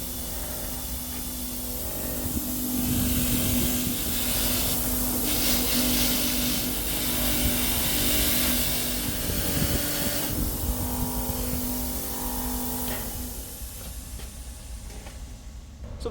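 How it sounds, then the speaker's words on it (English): A wire wheel spinning on a bench grinder to strip burrs from a machined metal BT40 arbor gives a steady, loud hissing roar with a constant hum underneath, which eases off near the end. "I'm going to use a wire wheel on a bench grinder to get rid of these burrs"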